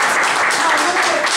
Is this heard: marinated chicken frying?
no